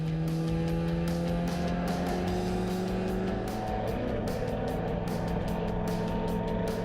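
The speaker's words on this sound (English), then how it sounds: "the cars worked their way through the right-hander of Copse Corner" Race cars on a wet, treacherous Silverstone track driving through the right-hand Copse Corner, several engines droning loudly together with falling pitch as they pass and rapid gear-shift stutters, continuous and close.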